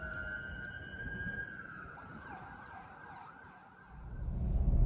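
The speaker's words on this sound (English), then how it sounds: "any trip to AC wouldn't be complete without sirens fucking up my shot" An emergency vehicle siren wails steadily down an Atlantic City street, its tone sweeping and wavering at moderate distance over low traffic rumble that swells toward the end.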